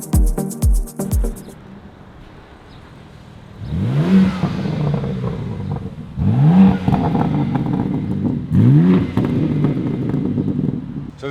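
A 2025 BMW M4 Competition convertible with a custom X-pipe exhaust revs hard three times, each rise climbing and falling loudly after a quieter idle, with a brief low burble at the start.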